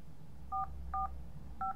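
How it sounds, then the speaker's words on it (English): An iPhone sounds three short dual-tone dialing beeps while a phone call is placed, spaced unevenly over under two seconds against a low background hum. "So it's beeped and it is making phone calls."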